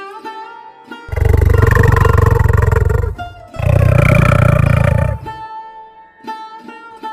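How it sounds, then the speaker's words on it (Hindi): A tiger lets out two long, deep, powerful roars, each lasting about two seconds, loud and close, set over a musical background that continues before, between and after them. "बाघ की आवाज आ रही है"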